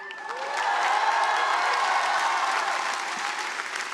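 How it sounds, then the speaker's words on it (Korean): A large crowd applauds at a university graduation ceremony, a broad, sustained wash of clapping that swells and then holds steady, heard somewhat distant and soft. "가장 큰 박수가 터져 나왔습니다"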